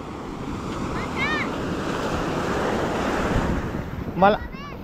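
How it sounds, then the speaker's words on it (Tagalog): Loud, constant roar of strong crashing surf at Bucana and wind buffeting the microphone, with faint children's voices calling out briefly. "malakas ang alon"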